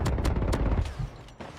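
Video game gunfire comes as a quick series of sharp shots and bursts, loud and close, thinning out toward the end of the short stretch.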